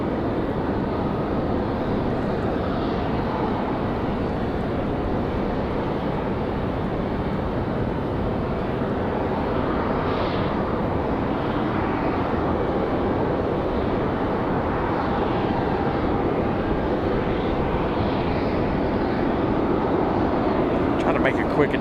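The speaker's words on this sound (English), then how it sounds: "Another 737 out at the end of the runway." At the end of a Raleigh-Durham runway, a Delta Boeing 737 bound for Los Angeles sends out a steady, moderately distant engine rumble that holds evenly throughout, with slight swells.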